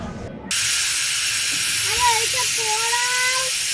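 A pressure cooker vents steam in a sudden loud, steady hiss that starts abruptly and holds, with faint whistling tones rising over it toward the end.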